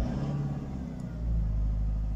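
A Toyota Hiace engine with an oil warning light that stays on runs steadily, giving a close, continuous low rumble that swells slightly louder partway through.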